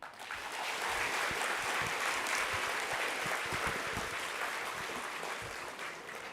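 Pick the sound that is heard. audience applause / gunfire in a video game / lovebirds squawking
audience applause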